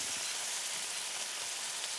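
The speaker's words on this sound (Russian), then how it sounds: "Лук в сковородку." Chopped onion sizzles in a frying pan still holding leftover sauce from Bengali-style fish, giving a soft, even hiss with no voices.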